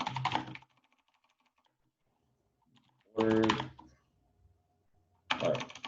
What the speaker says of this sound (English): So I'm just I'm going through this and typing things in.